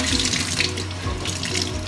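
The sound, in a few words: tap water running to soak a paper towel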